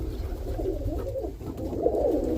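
A roller pigeon coos in soft, low, repeated throaty phrases close by, over a steady low background rumble.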